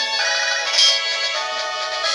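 The Pokégear phone in Pokémon HeartGold rings with a bright, repeating electronic chiptune ringtone, steady and alone, with a short accent partway through.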